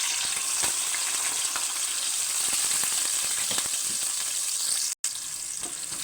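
Green chilies and onions frying in hot oil with cinnamon and cloves: a steady, dense sizzle and crackle running throughout, broken by one brief dropout near the end.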